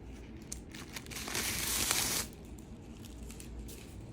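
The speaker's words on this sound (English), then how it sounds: "remove all of this extra packaging" Extra packaging from a Chanel 22A caviar classic flap bag crinkles and rustles close by, faint at first, swelling into a brief louder scrunch in the middle, then settling to soft scattered crackles.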